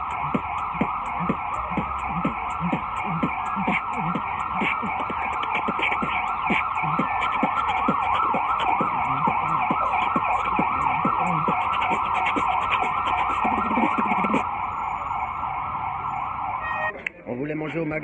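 A beatboxer imitates an ambulance siren with his voice, a loud sustained wailing tone over rapid rhythmic mouth percussion for about fifteen seconds before it abruptly stops.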